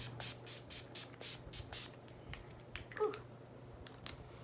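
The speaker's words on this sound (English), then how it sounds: "I'm gonna spray myself with makeup setting spray like I always do." Several short bursts of makeup setting spray misted from a pump bottle, quick airy hisses in a row close to the microphone, followed by quieter handling sounds.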